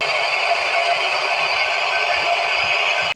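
Steady broadband hiss from a restored Clarion cassette radio, about fifteen years old, playing on its own at a constant, fairly loud level with no talk over it.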